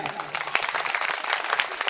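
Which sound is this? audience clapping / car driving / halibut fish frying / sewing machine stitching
audience clapping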